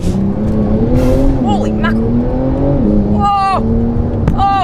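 A Porsche turbo sports car engine revs and pulls hard with a rising, sustained drone, loud and close, then a couple of sharp higher-pitched whoops near the end as someone speaks over it.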